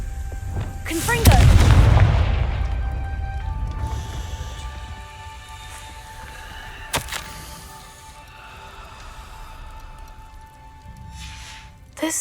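Confringo spell blast in a video game, a loud booming burst near the start that fades into a rumbling tail, followed by quieter ambient game sounds and a few faint later impacts.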